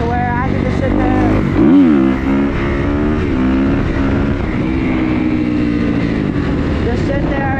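Motorcycle engine held at steady throttle in fifth gear while riding a wheelie, a sustained droning hum with a brief pitch swell early on, loud and close throughout.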